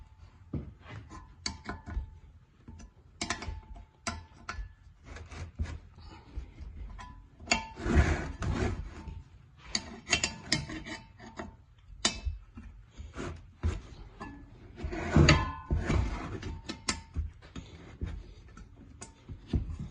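Loosening and removing the fan-to-clutch bolts on an engine fan during a fan clutch replacement, irregular metallic ticks, clicks and ratchet-like clatter close by, in short uneven bursts.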